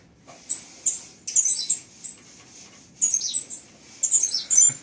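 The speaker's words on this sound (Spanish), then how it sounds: "Miren eso, gorriones." Sparrows, kept alongside canaries, give bright quick chirps in short bursts and clusters, near and fairly clear over a quiet background.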